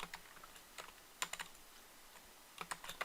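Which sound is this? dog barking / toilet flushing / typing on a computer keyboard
typing on a computer keyboard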